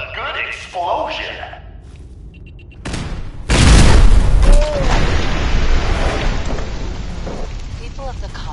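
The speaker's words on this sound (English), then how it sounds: "good explosion." An explosion in the video game Fallout 4 bursts loudly after a few seconds, a heavy boom that rolls into a long fading rumble, with scattered game sounds before it and a voice talking over parts of it.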